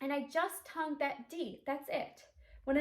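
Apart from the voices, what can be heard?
None of the usual background noises is heard.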